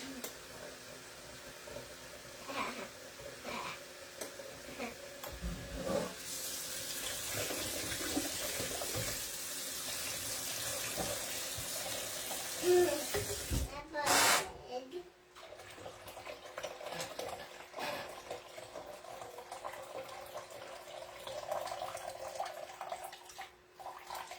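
Water runs from a kitchen tap while tea bags are rinsed, a steady hissing stream that starts and stops with brief gaps and clunks, with a voice talking over it at times.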